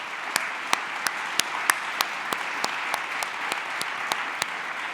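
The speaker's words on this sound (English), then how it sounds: "I would ask you a big round of applause" Conference audience applause forms a broad, steady wash of clapping, with one sharp, close clap landing at a regular beat roughly every third of a second above the rest.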